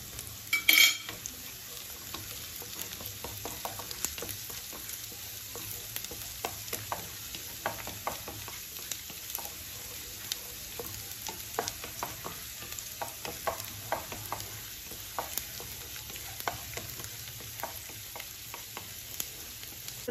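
Garlic fries and is stirred in a pan for a tomato-sauce spaghetti, giving a steady close sizzle broken by frequent clicks and scrapes of a utensil against the pan, with no talk.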